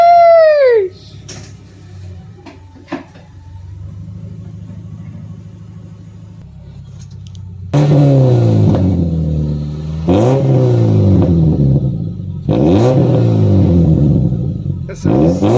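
Subaru Legacy 2.5i with a Nameless Performance catback exhaust: a quiet idle rumble, then three loud throaty revs that climb and drop back, each rising sharply and falling away, close to the tailpipe.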